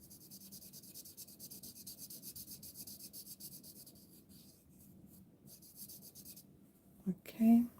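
A marker or pen colours in a small stamped, die-cut paper balloon, giving a soft, close, continuous rubbing scratch across paper that fades briefly near the end, followed by a short bump of handling noise.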